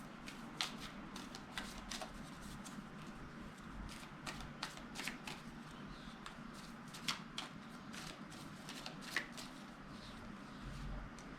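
Tarot cards are shuffled by hand in a quiet room, a long run of soft riffling and flicking bursts that come close and crisp at a brisk, uneven rhythm.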